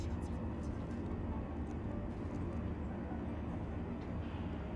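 A tram in Star Citizen hums and rumbles steadily while in transit, a continuous low mechanical drone under a faint voice.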